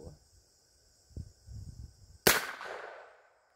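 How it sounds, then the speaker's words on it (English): A single sharp crack of a .22 revolver fired at a tissue box outdoors, loud and close, with a short ringing decay after quiet low handling noises. "This revolver does shoot high left."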